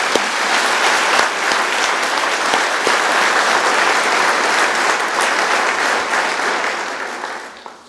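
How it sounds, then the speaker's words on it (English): Audience applause for Dayna Baumeister after her talk on innovation inspired by nature, steady and full for nearly eight seconds before tapering off at the end. "I'd just like to give another round of applause to Dayna Baumeister."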